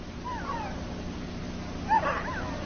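Husky dogs and pups on an Antarctic expedition give faint yips and whimpering barks, one brief burst early and a louder cluster near the end, over steady old film hiss.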